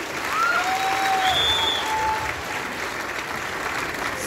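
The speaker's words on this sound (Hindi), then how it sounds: "जोरदार तालियां मुकेश भाई साहब के लिए" Audience applause at a DXN motivational event, a dense steady clapping that fills the whole stretch at strong volume, with a few whistles rising briefly over it.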